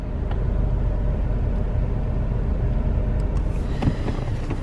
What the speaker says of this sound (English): now I am driving the Corolla of a friend of mine